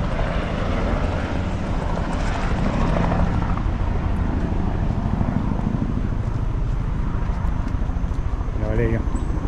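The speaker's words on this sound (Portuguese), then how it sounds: "Acredito que eles passam de helicóptero." A helicopter's rotor thumps steadily and loudly throughout over Foz do Iguaçu, with wind noise and faint voices mixed in near the end.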